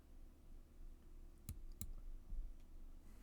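Two sharp, quiet mouse clicks in quick succession, followed by a softer click, set against a faint steady hum with no talking.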